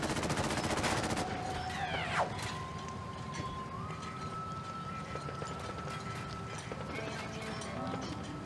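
Gunfire in Fallout 4, a dense rattling burst in the opening second, then fading under steady electronic tones and a background hum.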